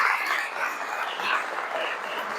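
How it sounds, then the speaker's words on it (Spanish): A lecture audience applauds, a brief, even burst of clapping from a crowd in a hall. "El aplauso es para ella, no para mí."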